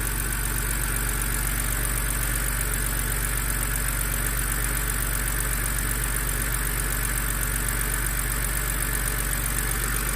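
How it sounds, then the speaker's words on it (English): A BMW N52 inline-six idles steadily after a magnesium valve cover conversion, a constant, even engine hum with no breaks or revving, close and alone. "I have a stable idle and no check engine light"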